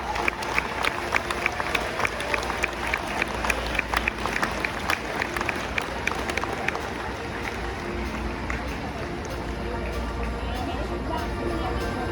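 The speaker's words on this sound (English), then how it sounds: "Take them out with an Iowa round of applause." A grandstand crowd at the Iowa State Fair horse show applauds a champion six-horse hitch on its victory pass, steady clapping with crowd noise and speech over it throughout.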